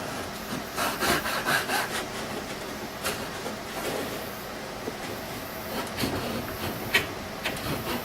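A hand saw cutting wood on an unclamped piece: rhythmic back-and-forth rasping strokes, close and fairly quiet, with no talking.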